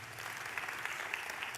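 Quiet audience applause at a brain-power seminar, a short, soft patter of distant clapping with a few sharper individual claps standing out.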